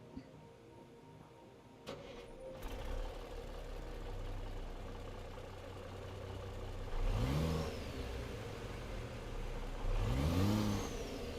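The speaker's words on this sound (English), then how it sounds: "Listen to that exhaust." A truck in American Truck Simulator with a new aftermarket exhaust starts up and settles into a deep idle, then revs hard twice, each rise swelling and falling away, with nobody talking.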